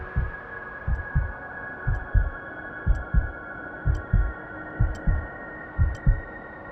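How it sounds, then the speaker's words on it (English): A heartbeat in a film soundtrack, heard alone in the quiet desert, thuds in steady lub-dub pairs roughly every second, with a faint tick above a low hum. "You only hear your own heart beat."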